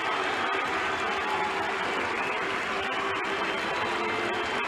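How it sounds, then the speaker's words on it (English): A stadium crowd on baseball's Opening Day cheers and applauds to welcome rookie catcher Damon Berryhill, a constant distant roar of massed clapping and voices with no break. "crowd giving him a great welcome"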